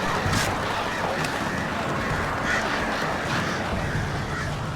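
Hostile birds attacking in the video game Alan Wake: harsh cawing and squawking bird cries over a dense, noisy game soundscape, continuous and fairly loud throughout.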